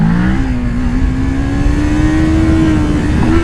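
A Kawasaki Ninja 650 motorcycle engine revving up for a wheelie, loud and close, its pitch climbing steadily and evenly through a short throttle pull.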